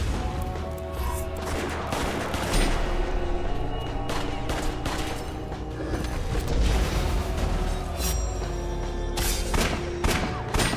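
Rapid gunfire from the bolt gun in the video game West of Dead, loud, dense volleys of shots and impacts layered over a busy game soundtrack with no talking.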